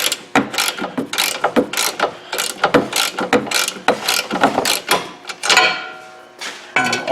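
Close ratcheting from a hand ratchet drawing up the rear sway bar brackets on a 2016 Mustang, quick clicking strokes in repeated bursts with short pauses between, no talking.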